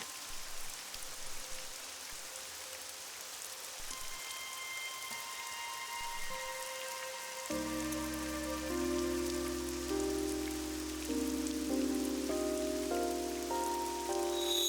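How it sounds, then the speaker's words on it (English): Steady rain falls in the video game AI: The Somnium Files, a dense constant hiss running the whole time, with musical tones rising in over the second half. "It's raining."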